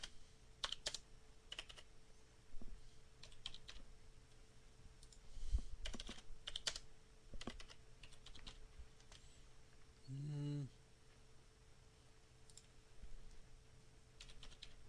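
Password being typed on a computer keyboard at a checkout screen: scattered bursts of key clicks across the span, uneven in rhythm and moderately close, with a short low hum partway through and no talk.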